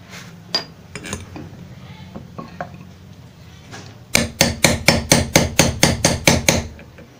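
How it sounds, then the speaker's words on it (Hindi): A bearing is hammered into a pedestal fan housing with a pipe during a home repair, giving about a dozen loud, sharp metallic strikes in a steady rhythm after a few scattered clinks and knocks. "तो हम इस बेरिंग को यहाँ पे रख के और फिर पाइप की मदद से ठोक देंगे।"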